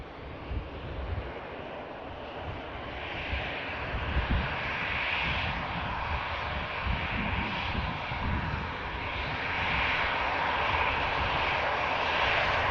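EasyJet airliner taxiing off the runway at Manchester Airport, a steady jet engine roar at moderate distance with some wind noise on the microphone.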